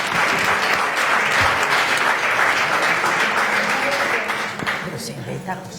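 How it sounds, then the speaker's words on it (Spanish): Sustained audience applause at a literary talk on Galdós, a thick, loud, even roar of clapping from a large crowd that carries on for several seconds before easing slightly near the end. "Yo no he pedido un aplauso, pero la gente es inteligente"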